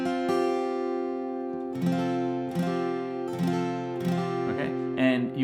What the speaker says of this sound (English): the only new chords we're going to need are a D